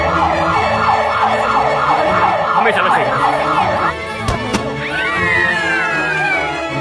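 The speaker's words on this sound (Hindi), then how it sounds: "क्या वो सायरन है?" A loud siren wails in rapid, repeating cycles, then shifts to a slower rising and falling tone, with a brief voice speaking over it.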